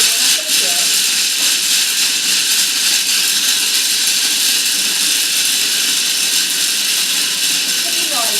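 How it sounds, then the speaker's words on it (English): Almonds are ground into flour in a high-speed kitchen blender for a raw vegan blueberry pie, a loud steady whirring roar with hissing grit that runs unbroken throughout. "the almonds, grind them first, so that if I were to grind everything together and mix everything together to make a flour"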